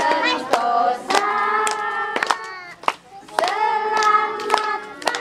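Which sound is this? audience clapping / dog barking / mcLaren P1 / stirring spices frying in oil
audience clapping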